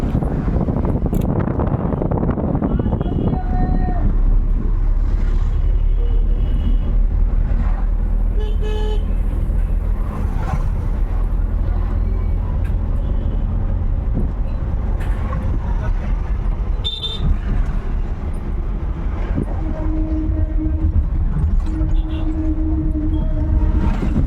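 Busy road traffic crossing Sodpur bridge, with passing cars and buses, repeated car horn toots near and far, and wind buffeting the microphone throughout.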